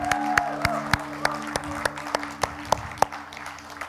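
A church congregation applauds its musicians at a Sunday service, sparse claps landing at a fairly steady rhythm over a low sustained hum, with a brief voice at the start.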